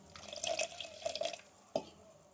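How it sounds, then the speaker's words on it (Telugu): Milk poured into a clay pot for a traditional village breakfast, heard as a steady trickling pour with a few splashy accents, close and fairly quiet, ending in one sharper splash. "పాలు కుండలో పోసుకోవాలి"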